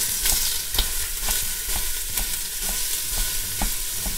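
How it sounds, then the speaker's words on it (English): Ground turkey meat sizzles and fries in a Ninja Foodi pot while a meat chopper breaks it up and stirs, with steady loud frying and regular scraping taps about twice a second, close and without talk. "So let's go ahead and drop in that turkey meat. Get out your fancy meat grinder."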